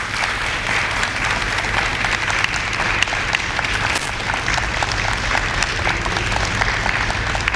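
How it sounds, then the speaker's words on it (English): A crowd at an MLK Day celebration applauds loudly and continuously, dense clapping filling the room for several seconds without letting up. "let's give another round of applause for Dr. Hill."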